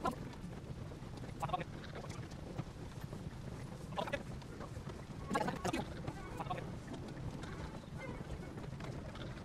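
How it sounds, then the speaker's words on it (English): An ox cart ride in Dragon's Dogma 2, heard as a steady low rumble of rolling wheels with wind-like noise and scattered knocks and clops, even and continuous throughout. "hop in the back of the cart and enjoy the long ride up to the"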